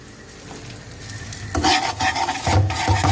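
Butter and sugar being stirred in a frying pan for glazed carrots, a soft sizzle with a spoon scraping and clinking against the pan, growing louder and busier partway through.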